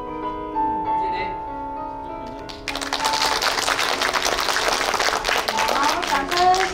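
After a tai chi performance at a school learning showcase, an indoor audience bursts into sustained applause, dense clapping that follows a stretch of quieter tones and carries on loudly to the end.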